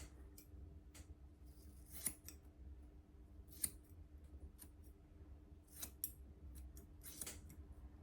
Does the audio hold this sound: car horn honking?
no